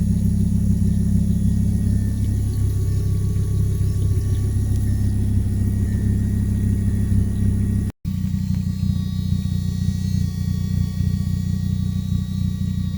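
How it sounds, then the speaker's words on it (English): A steady low mechanical hum and drone of an external fuel pump running on a 2.5L 07K Beetle, constant and close, under an engine exhaust rumble, with a brief cut partway through. "that's what an external pump sounds like"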